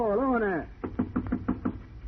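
Knocking on a train compartment door: five or six evenly spaced raps, moderately close, right after a voice finishes speaking.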